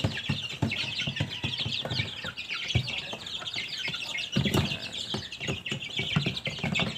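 Small chicks in a little cage, kept there when cold or sick, peep and cluck in a dense, steady chatter, with many short calls overlapping close by and no talk.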